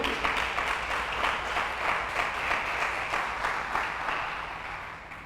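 A church congregation applauding during a Portuguese-language service, a full, even roll of many hands clapping with a slight pulsing rhythm, gradually softening near the end.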